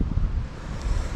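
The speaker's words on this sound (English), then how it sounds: "Oh, it's so windy today" Wind buffets the microphone in short low gusts, a rough rumbling roar with no other sound over it.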